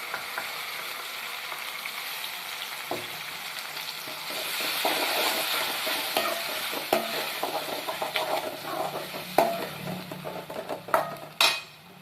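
Onions and tomatoes sautéing in a pan for vegetable kurma, with a steady close sizzle that grows louder partway through, broken by scraping stirs and sharp clinks of a spoon against the pan.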